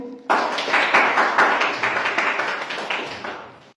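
A classroom of students claps together, a dense burst of many hands starting abruptly, loud and close, then gradually thinning and fading over a few seconds.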